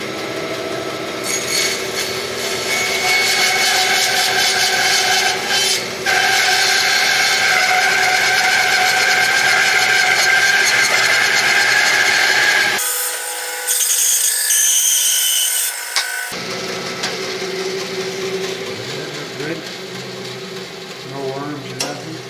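A cedar block has its end cut off with a saw, giving a steady loud rasping grind of blade through wood that runs for several seconds, stops abruptly, then resumes more faintly, with no voices heard.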